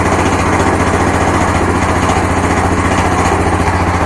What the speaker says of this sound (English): we'll let it warm up for a second and then we'll get out and start plowing snow